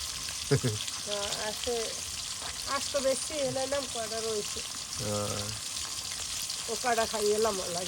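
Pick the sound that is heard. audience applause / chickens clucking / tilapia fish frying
tilapia fish frying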